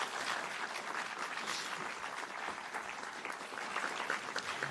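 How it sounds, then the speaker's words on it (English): Steady, dense audience applause closing a panel discussion on truth and reconciliation in sport, a continuous wash of many hands clapping at even loudness throughout, with no voices on top. "Let's hear a round of applause,"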